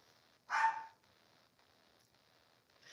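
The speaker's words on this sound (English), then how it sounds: "She's in my bedroom barking out the window." A single loud dog bark, slightly muffled as if from another room, followed by a quiet background hum.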